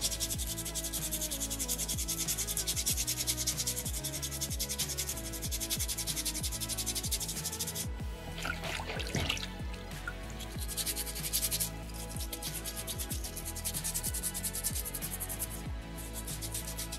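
A soapstone beaver carving is sanded flat by hand, a steady close scratchy rasp of repeated strokes, briefly pausing around the middle before the rubbing resumes.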